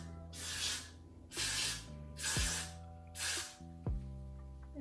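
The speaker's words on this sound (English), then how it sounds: "I'm about to spray it some more so this can stay in place" Hair spray hisses onto a lace-front wig worn over locs in four separate bursts, each roughly half a second long, close to the mic with short quiet gaps between them and no talking.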